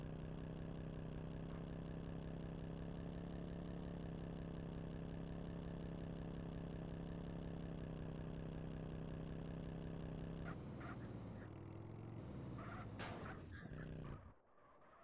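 Motorcycle engine idling in the MTA DayZ survival game, a steady low mechanical drone with even pulsing that runs for about ten seconds before breaking off into scattered clatter and fading.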